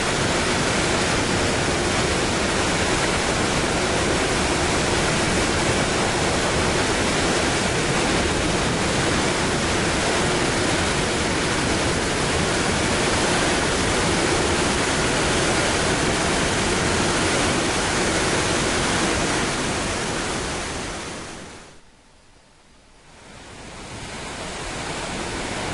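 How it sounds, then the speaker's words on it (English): Water thunders out of a release tunnel at Oahe Dam on the Missouri River during July 2011 flooding, a loud, dense, unbroken roar heard up close that dips briefly near the end. "Here you see the water flow from one of the tunnels itself."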